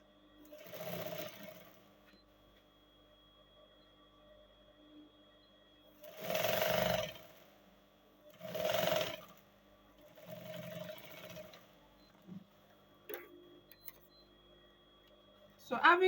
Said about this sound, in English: I'll sew by 1/2 inch